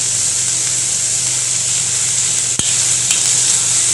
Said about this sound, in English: Let's fry for 2 seconds.